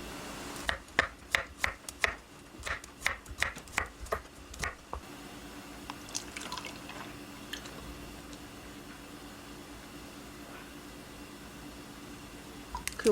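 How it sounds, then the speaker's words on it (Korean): A knife slices food into thin julienne strips on a board, about a dozen quick, sharp cuts at a steady rhythm, close and clear, then the cutting stops and low room noise continues. "얇게 채 썰어 줄게요"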